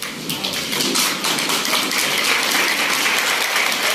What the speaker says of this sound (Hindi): मैं चाहता हूँ आप कदम पे खड़े होकर उनके लिए ताली बजाएं